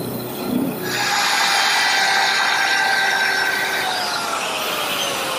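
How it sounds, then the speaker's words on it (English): A bandsaw cuts a decorative curve in a wooden crest rail, the table tilted to 10 degrees, giving a loud, steady high-pitched whine that starts after a short pause and runs continuously. "I'll cut it at my bandsaw."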